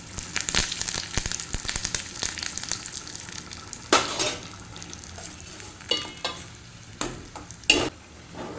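Curry leaves dropped into hot tempering oil with mustard seeds and garlic, a sizzle punctuated by spoon scrapes and clinks against the pan, with several louder bursts of crackling spitting as leaves hit the oil.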